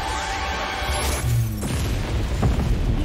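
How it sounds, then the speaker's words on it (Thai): Loud booming blasts and crashing bursts fill the clip, layered synthetic explosion effects from the video game RoV with a sweeping rumble throughout. "ดูระเบิดระเบ้ลเนี่ยดิ"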